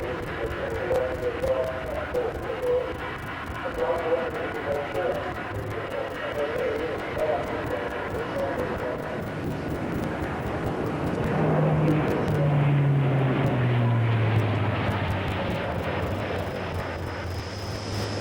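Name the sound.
Hercules transport aircraft flying at Farnborough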